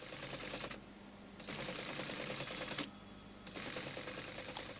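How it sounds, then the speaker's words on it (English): An automatic typewriting recorder prints out windmill readings in a laboratory, rapid mechanical clattering in bursts separated by short pauses, faint and fairly close. "A record of the readings is typed out automatically."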